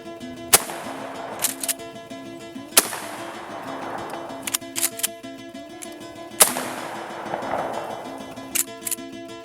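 A Mossberg 500 pump-action shotgun fires at a basketball outdoors, giving three sharp, loud blasts several seconds apart, each followed by ringing echo, with smaller knocks and clacks in between.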